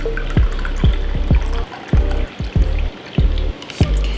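A cocktail pours and splashes into a glass, with repeated clinks and taps of glass over a steady wet rush.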